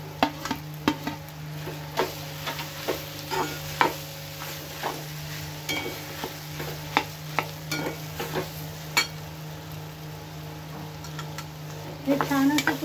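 Mashed boiled potatoes stirred and sautéed in a hot pan with a steady sizzle, punctuated by repeated scrapes and taps of a spoon against the pan at an uneven rhythm, close and moderately loud.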